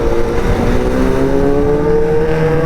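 Superbike engine revving hard through a gear shift, a loud close steady roar with rising and falling engine tones and no talk.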